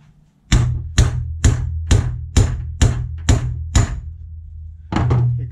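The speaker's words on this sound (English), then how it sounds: "This drift will go all the way through." Eight sharp hammer blows at a steady rhythm as a metal drift is driven through a classic Mini radius arm in a workshop, close and loud, followed by a heavier knock-and-scrape after a short pause.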